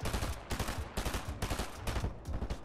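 Gunfire in a Fortnite solo tournament comes in five or six rapid bursts about half a second apart, each a sharp cluster of shots, loud and close with brief gaps between.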